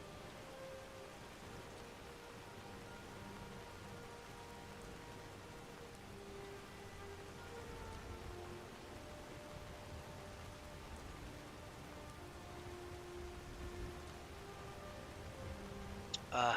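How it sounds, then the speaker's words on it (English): Rain falls in the video game Skyrim as a faint, steady hiss that runs unbroken throughout, with soft low game music tones drifting underneath. "What's wrong with the rain? I love the rain."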